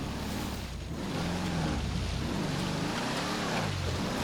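A car drives slowly through deep water, a steady wash of sloshing and splashing that runs continuously over the low rumble of the engine, close by, with no talking.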